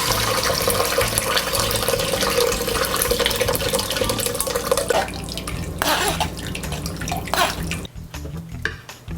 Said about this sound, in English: Shout out to our new faucet.